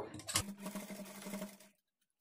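A sewing machine runs one brief, quiet burst along a blouse side seam, then stops into silence.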